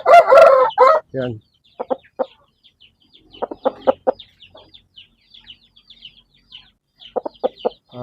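A giant Dumpo-bloodline rooster crows loudly up close, then follows with short bursts of clucking in scattered groups amid quiet gaps; a voice speaks briefly.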